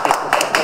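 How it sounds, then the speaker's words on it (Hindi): Several quick hand claps in an uneven rhythm at a Bhojpuri film's launch ceremony in Mumbai, close and fairly loud, with background talk. "ताली तो बजाइए"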